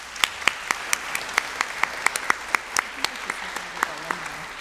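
Sparse, scattered clapping from an audience at a spring chamber music concert, a few distinct claps ringing out individually in a reverberant hall at an uneven rhythm.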